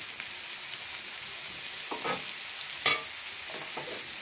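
Potatoes and brinjal frying in a pan with steady soft sizzling, broken by a few brief scraping stirs of the spatula, close and fairly quiet, no talking.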